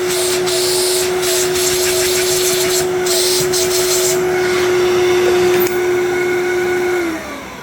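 Fantom Thunder vacuum cleaner running loud and close with suction through the wand, a steady whining roar with a constant high tone that drops off near the end.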